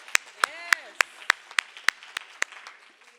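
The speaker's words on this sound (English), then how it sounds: "Another round of applause." Sharp, evenly spaced hand claps, about a dozen in a steady rhythm, at a poetry festival, with a voice speaking over the first part.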